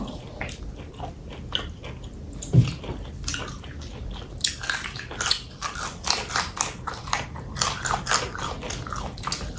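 Crunchy beans and raw vegetables being chewed close up, repeated crisp crunching bites that grow denser and faster toward the end, with no talking.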